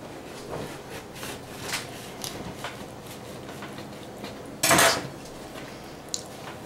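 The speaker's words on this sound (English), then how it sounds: "This is a man's knife to cut a man's sandwich." A large knife saws through a big sandwich stacked with pickles and spaghetti sauce, scraping and squishing in soft strokes, then one louder clatter of the blade against a plate or board.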